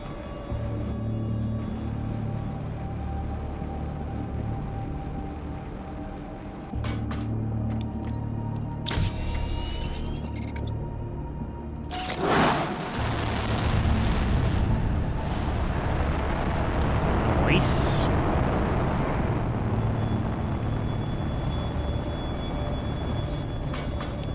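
Animal rocket launching in the video game Planet Crafter: after a steady mechanical hum, a sudden loud ignition blast swells into a long, rumbling roar that fades away gradually.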